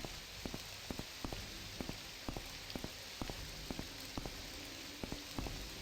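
Steady rain falls in the fantasy video game Morrowind, a soft continuous patter with scattered sharper drips landing at irregular intervals, faint and alone without voices.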